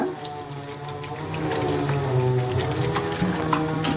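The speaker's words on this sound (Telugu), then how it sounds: "ఈసారి నీళ్ళు వేస్తున్నానండి సరిపడంత" Water is poured steadily into a pan of cooking curry, a continuous close trickle and splash with a faint mechanical hum underneath and no talking.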